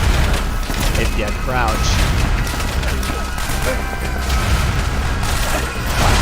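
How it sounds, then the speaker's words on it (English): Bursts of video game gunfire through a wall during a building siege, dense booming shots and crashes running steadily throughout, mixed under someone talking. "they're shooting me through the wall"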